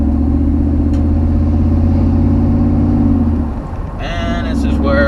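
A Dodge car engine gives off a deep, steady, diesel-truck-like rumble heard close from a cruising car on a beach road. The rumble eases off after a few seconds, and a voice speaks at the end.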